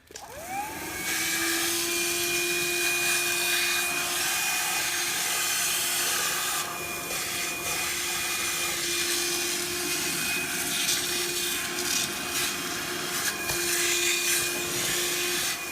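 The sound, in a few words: SOWTECH cordless cyclonic vacuum with small black attachment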